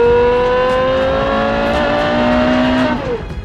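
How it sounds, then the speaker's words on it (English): A Porsche Carrera GT's 5.7-liter V10 revs hard and loud at close range, its pitch climbing steadily over about three seconds before cutting off abruptly. "that's why we have the Carrera GT, which sounds like this."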